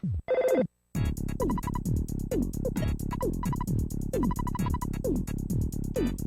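Telephone ringing in a horror video game, sounding as a repeating electronic ring in steady bursts across the whole clip, loud and close, with a short separate tone at the start.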